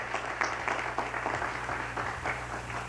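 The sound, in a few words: round of applause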